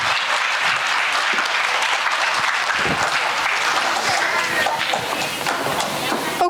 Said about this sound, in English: Guys, a huge round of applause for Adya,